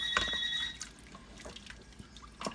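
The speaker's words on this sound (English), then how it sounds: "That's my neighbors calling on my house phone here" A house telephone rings in a home kitchen with a short, bright electronic trill near the start, followed by quieter clinks and drips in the room.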